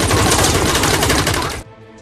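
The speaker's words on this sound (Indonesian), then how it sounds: "Penolakan itu membuat Teddy murka hingga ia nekat menembak semua pengawal" Rapid automatic gunfire from a film scene in which bodyguards are shot bursts loud and dense for about a second and a half, then cuts off abruptly into near silence.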